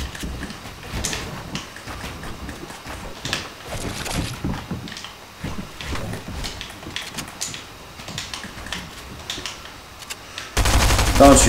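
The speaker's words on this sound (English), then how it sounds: "he's getting shot at" Gunfire in the video game Fortnite: bursts of rapid shots crackle through the clip, some near and some more distant, with a louder burst at the very end.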